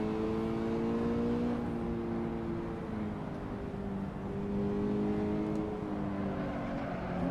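Racing car engine in the Assetto Corsa video game droning in fourth gear under full throttle, a sustained moderately loud note that slowly shifts in pitch without ever surging much, with no talking.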